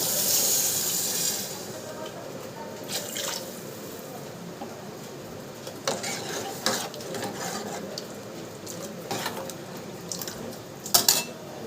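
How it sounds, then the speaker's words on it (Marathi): Water is poured into a cooking pan for a sprouted moth bean curry, a wet splashing and trickling that builds after the opening, with a few light clinks of utensils and no talk. "पाणी टाकते"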